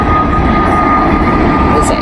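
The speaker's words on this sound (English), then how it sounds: "That was one of the coolest looking private jets that I've seen yet" A private jet passes overhead in a steady, loud rushing roar heard over a garden, with a faint voice underneath.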